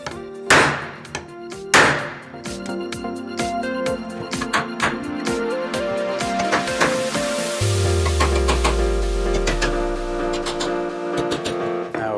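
A chisel is hammered into sheet metal laid on a rubber mat to cut a handmade repair panel. Two loud, close blows open a run of rapid, sharp metallic taps that ring on, with no talk.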